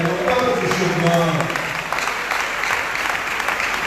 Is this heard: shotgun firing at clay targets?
no